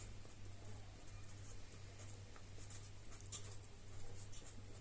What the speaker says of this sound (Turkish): Ee, bunları şöyle yazayım.